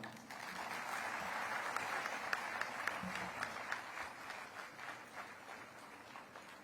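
Steady audience applause fills a large hall after the Vice President's address at a medical college centenary celebration, a dense even roll of many hands clapping that holds throughout at moderate level.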